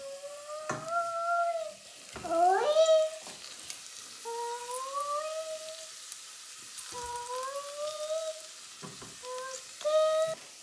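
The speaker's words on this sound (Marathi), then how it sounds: "आलू फ्राय करायचं" Potatoes fry in a pan in a home kitchen with a steady, soft sizzle, while high, gliding tonal sounds come and go over it in short bursts.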